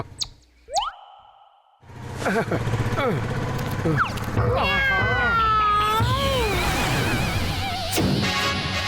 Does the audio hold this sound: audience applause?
no